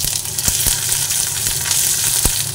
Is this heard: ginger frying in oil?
yes